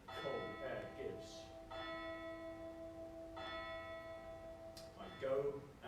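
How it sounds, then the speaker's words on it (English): A single church-type bell tolls during a stage performance of Macbeth, with two clear strikes whose long ringing tones fade slowly, heard at moderate distance beneath a man's spoken lines. "The bell invites me."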